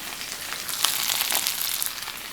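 Onion sizzling as it fries in a pan for a Cajun stir fry with rice, a steady bright hiss with small crackles that swells slightly midway, alone with no talk.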